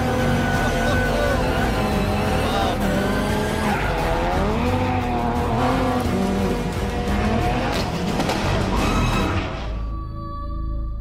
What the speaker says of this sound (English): this car has been set up to handle just like a rally car would on gravel.